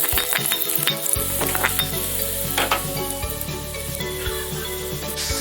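Garlic fries in oil for kottu, giving a loud, close, steady sizzle with light stirring clinks from the pan, and no voices.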